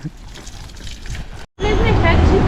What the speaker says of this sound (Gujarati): આમાં ખેડૂતે પાણી પાવાનું ચાલુ કરી દીધું